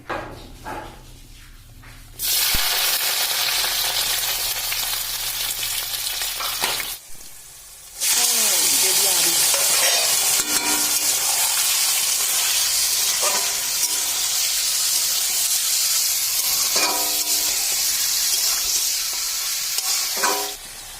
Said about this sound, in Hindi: अभी मैं जल्दी से फटाफट से फ्राई कर लेती हूँ